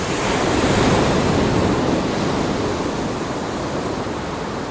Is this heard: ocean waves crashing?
yes